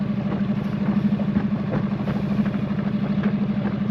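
A boat's outboard engine, just lifted into shallow mode, idles with a steady low throbbing drone that continues without a break.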